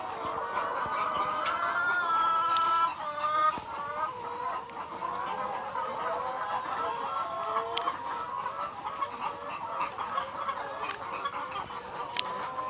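A crowded poultry farm flock of chickens keeps up a dense, continuous murmur of clucks and calls, many birds overlapping at a moderate distance without any talking.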